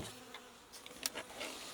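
Agitated honey bees buzz around an opened hive during an inspection, a steady faint drone with a few insects passing close by in brief louder swells.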